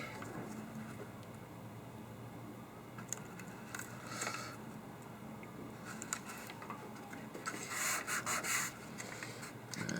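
Masking tape on an Academy 1/48 F-16 scale model is burnished down along an edge. Quiet, close rubbing strokes come in short bursts, with a run of firmer passes near the end.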